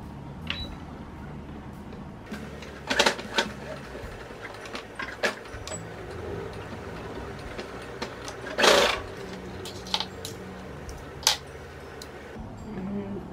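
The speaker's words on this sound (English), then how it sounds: "I'm doing a few stitches, so I want to make sure the thread won't come out" A sewing machine stitches fabric for headbands in short bursts of rapid mechanical clatter, with several louder runs separated by pauses and small clicks, close up, while a person talks intermittently.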